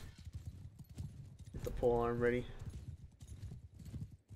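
Horses in Mount & Blade II: Bannerlord clip-clop steadily through a battle, hooves thudding continuously, with a brief whinny partway through, all under a person talking.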